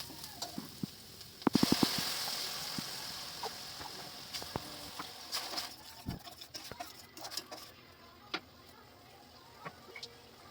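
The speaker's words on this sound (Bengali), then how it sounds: "পেঁয়াজটা ভালো করে ভাজা হয়ে গেলে, লাল লাল হয়ে গেলে এর মধ্যে আমি দিয়ে দেব বেটে রাখা টমেটোগুলো।" Ground tomatoes hit fried onions in a pan for home-style rajma masala, setting off a sudden loud sizzle that settles into a quieter hiss with scattered sharp pops and ticks.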